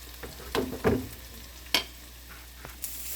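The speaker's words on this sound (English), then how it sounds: "So this is the onion and garlic frying up." Onion and garlic frying in olive oil in a pan, a soft steady sizzle with a few sharper crackles and stirring clatters, close and without talk.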